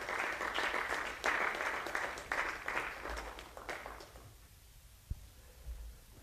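A church congregation at an April prayer and praise service claps loudly for about four seconds, then the applause fades into quiet room noise with a single soft thump.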